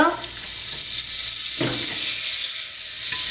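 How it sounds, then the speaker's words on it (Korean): Butter hits a hot pan with a loud, close, continuous sizzle that stays steady throughout, marked by a couple of brief bumps from the pan. "달군 팬에 버터를 넣어주세요."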